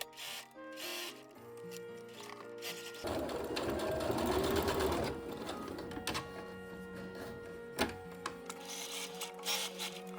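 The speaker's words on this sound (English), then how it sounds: "Once the pocket is all sewn together, I then work my way down the rest of the side seam." A sewing machine stitches the pocket bag of a Hylian armor costume in quiet, rapid mechanical bursts, pausing and restarting with a rattling hum and small clicks between runs of stitching.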